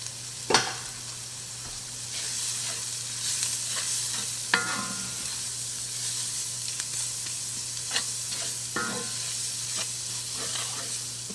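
Flour is stirred into a frying pan for Southern-style chicken, a continuous sizzle with steady scraping strokes and a few sharper clicks of the utensil against the pan.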